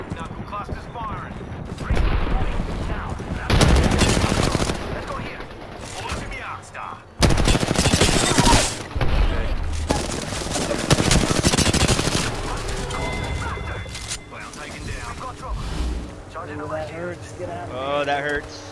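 Apex Legends combat with Rampart nearby: repeated heavy gunfire bursts and the Knuckle Cluster's rapid cluster of small blasts, dense and loud for long stretches, with mechanical clatter and players talking over it.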